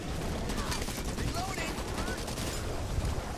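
Dense gunfire from the video game Back 4 Blood, steady rapid shots blending into a continuous barrage against a noisy background of game sounds and faint voices.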